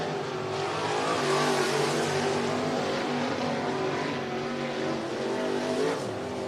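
A race car laps a speedway oval at full speed on a short track in Cottage Grove, Oregon, its engine a loud, steady roar throughout with slight rises and falls in pitch.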